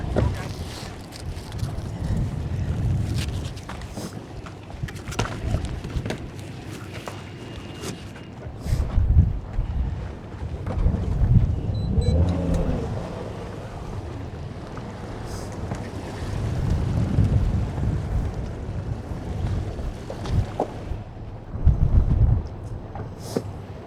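Low, steady rumble of the engines of a 58-foot Hatteras yacht idling on the water, with wind buffeting the microphone and voices talking intermittently over it.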